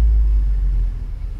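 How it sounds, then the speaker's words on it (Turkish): A Polo GTI being driven on the Nürburgring gives a loud, deep engine rumble from inside the car, steady and then dipping slightly toward the end, with no talk. "Arabanın sesi de güzel ha."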